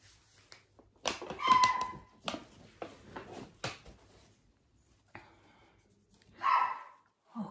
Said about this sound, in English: Oh, can you hear that dog?